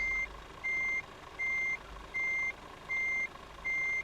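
Evenly spaced electronic beeps repeat about six times over a low engine hum, the reverse warning tone of a modded Scania truck in Euro Truck Simulator 2 sounding steadily.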